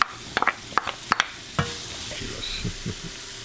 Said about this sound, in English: so you heat the spice up in the oil?